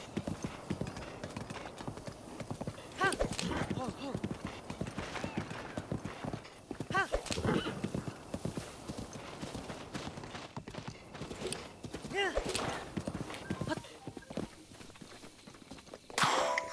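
Horse galloping in the video game The Legend of Zelda: Breath of the Wild, with rapid rhythmic hoofbeat clip-clops running throughout, occasional clanks, and a voice talking over it.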